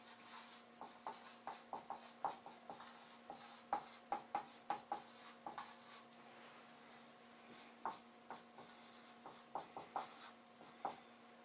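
Chalk or marker strokes on a classroom board while working through a parallel circuit lesson, a run of short scratchy taps and rubs in irregular bursts, close and moderately quiet over a low steady hum.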